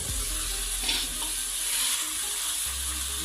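Spiced potatoes with tomatoes sizzle steadily in a hot pan, giving a close, continuous hissing crackle with a faint scrape of stirring and a brief clunk near the start, and no talking.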